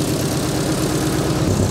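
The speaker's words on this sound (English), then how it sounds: "We know the engine is running. It's running a bit rough, but it runs." An old Harley-Davidson Sportster motorcycle engine, restarted after sitting ten years, runs steadily and somewhat rough at a low, continuous idle, close and loud with no talking.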